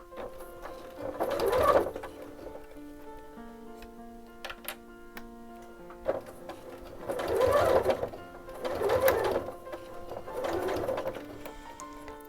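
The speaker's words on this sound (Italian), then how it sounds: "E questo invece è come lavora il piedino in Teflon senza essere imbastito." A sewing machine fitted with a Teflon presser foot stitches unbasted material in several bursts of rapid, steady stitching with short pauses between, close and fairly loud, with no talking.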